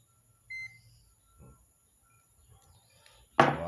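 A short, high electronic beep from a multimeter testing a Miele vacuum cleaner for a short sounds once, faint and clean in a quiet room, followed by a few soft clicks and a louder rustling burst.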